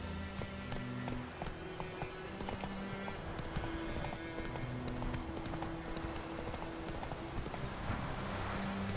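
Steady clip-clop of horse hooves at a gallop in The Witcher 3: Wild Hunt, with game music tones underneath and occasional effects, continuous throughout.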